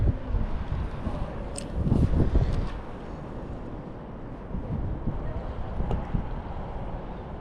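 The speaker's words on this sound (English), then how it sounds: "I need this wind to chill out a little bit." Wind gusting outdoors during trout fishing by the water, a steady broadband rush with a louder surge around the second and third seconds and no talk.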